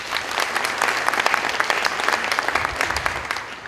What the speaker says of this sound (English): Show of applause if you think it's blue.